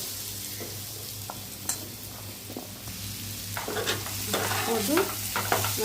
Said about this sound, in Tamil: கருணக்கிழங்கு எடுத்து எண்ணெயில் போட்டு